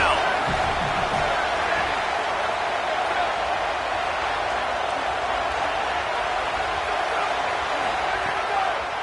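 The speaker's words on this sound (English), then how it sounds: "Decibels rising as the crowd gets behind this defense on third down." A packed football stadium crowd roars behind the defense on a third down, a dense, steady wall of cheering and noise that holds loud and constant throughout with no breaks.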